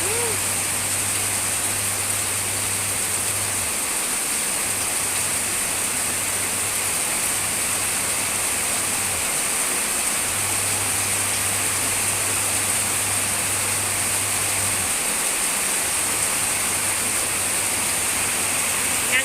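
Heavy rain pours down outside a house, a dense, steady hiss of water with a low constant hum underneath, loud and unbroken throughout.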